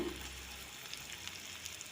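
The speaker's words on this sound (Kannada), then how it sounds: "ಇದಕ್ಕೊಂದು ಒಗ್ಗರಣೆ ಹಾಕೊಳ್ಳೋಣ" Faint, soft sizzling of a tempering of garlic, chillies, curry leaves and asafoetida in hot oil for methi sambar, a low steady hiss heard alone.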